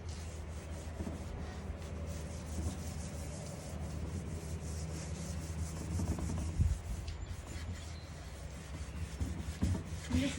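Steel wool rubbing across a wooden tabletop being refinished, a steady close scratchy scrubbing that runs continuously with a few louder strokes near the end.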